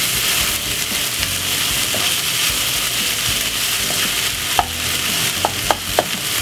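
Meat browning in a pan for spaghetti bolognese sizzles in a loud, steady hiss, with a few sharp utensil knocks and clinks from stirring near the end.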